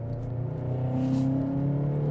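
A Volkswagen Golf GTI Performance with a 245-horsepower EA888 2-liter turbo four-cylinder engine accelerates on the Nürburgring Nordschleife, giving a steady, loud, close engine drone that rises slightly in pitch, with no talk.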